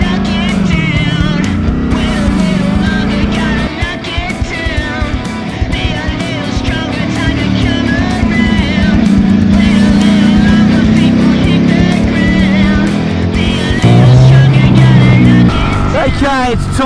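A Ducati Streetfighter hyper-naked motorcycle engine revs and rises through gears during a ride, its loud tone climbing and falling, with wind noise throughout.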